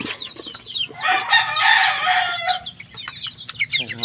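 Chickens on a farm, with a rooster crowing loudly over repeated clucking from the hens; several birds call close by in quick, overlapping bursts.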